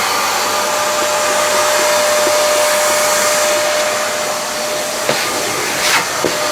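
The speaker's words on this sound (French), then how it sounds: "Passez l'aspirateur." A household vacuum cleaner runs steadily indoors, a loud continuous whine with a constant drone, alone with a couple of brief knocks near the end.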